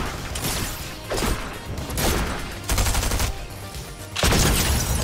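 Bursts of gunfire from a Fortnite match, loud and close, with repeated volleys and rifle shots cracking in clusters and a heavier blast near the end.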